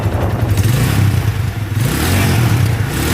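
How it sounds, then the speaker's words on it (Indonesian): A Honda Tiger motorcycle engine, just started after a kick-start fault, runs steadily close by with a loud, rumbling idle and a slight mechanical clatter, dipping briefly before settling back. "Motor sekarang sudah hidup."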